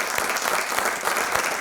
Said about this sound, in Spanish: mi primer aplauso es mío para vosotros